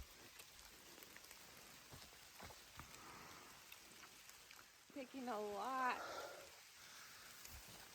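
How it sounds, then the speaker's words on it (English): Hard rain falls steadily at an off-grid cabin in Alaska, a dense continuous hiss of drops on surfaces with a few louder patters, briefly joined partway through by a short rising voice or animal call. "it's raining really hard now"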